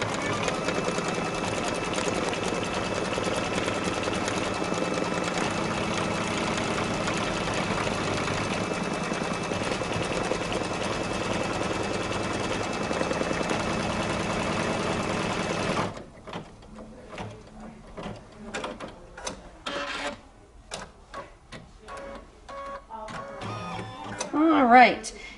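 An embroidery machine stitches a tack down line to hold fabric in place on a Kimberbell blank, a loud steady mechanical whir with rapid needle pulses running alone for about sixteen seconds before stopping, followed by quieter handling clicks and rustles.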